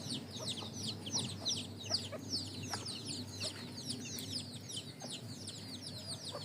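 Chickens cluck steadily on a rooftop farm with netting around the edges, layered soft calls close by while many small birds chirp busily overhead, forming a continuous lively backdrop with no talking.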